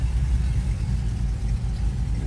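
A GMC Yukon with a big cam idles with a steady, low, lumpy engine rumble, close and continuous with no talking.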